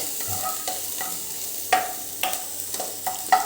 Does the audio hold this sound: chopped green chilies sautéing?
yes